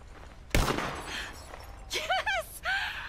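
A single sharp rifle gunshot cracks out in Red Dead Redemption II, loud and close, followed by brief speech.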